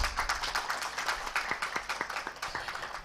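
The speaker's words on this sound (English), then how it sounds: "A round of applause for all the panelists on the stage." Audience applause for panelists on stage at an urban planning conference breakout session, a crowd clapping in a steady patter with sharp individual claps standing out, moderately loud and continuous with no talking.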